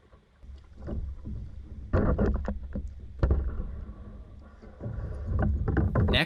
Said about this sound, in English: We'll paddle our way back to the north dam, where we will get off the lake.